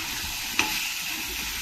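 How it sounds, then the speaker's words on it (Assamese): Beaten egg mixture fries in a pan with a steady, soft sizzle and one brief clink near the start, no voices. "মিক্স কৰাৰ পিছত ইয়াতে ভাজি দিম"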